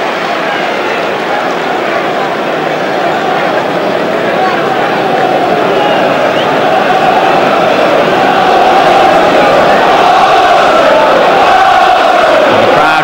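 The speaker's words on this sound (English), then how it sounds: "And the crowd trying to give Arsenal that little extra lift here" Stadium crowd noise at Highbury during Arsenal versus Newcastle in the 2003-04 Premier League, a dense, steady roar that swells louder toward the end, with a commentator-like voice faintly under it.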